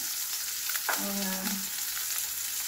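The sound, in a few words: sautéing garlic and onion in oil for pinakbet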